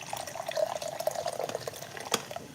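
Boiled water trickles and splashes into a cooking pot that already holds coconut milk, a close, bubbling stream with small irregular spatters and one sharper splash near the end.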